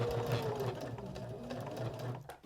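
Sewing machine running steadily as it stitches a seam on a small fabric nail file holder, a continuous close whirring with a regular fast pulse and no pauses.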